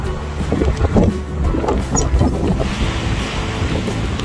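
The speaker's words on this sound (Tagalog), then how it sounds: "Pero ngayon, ako, binalikan tayo ng malakas na snowstorm." Strong gusting wind from a spring snowstorm roars outdoors, buffeting the microphone with steady low rumble and surging gusts throughout, no talk.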